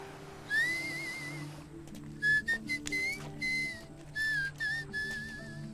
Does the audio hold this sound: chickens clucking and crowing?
no